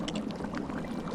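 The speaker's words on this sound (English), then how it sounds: "she has the Aquamenti spell, where she can spray water" The Aquamenti water-spraying spell in Lego Harry Potter Years 5-7 gives a brief, soft gushing spray of water, continuous and fairly quiet for about a second.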